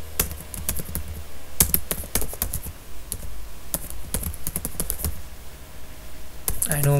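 Computer keyboard typing code, a steady run of quick light key clicks with bursts and pauses, close by over a faint background hum.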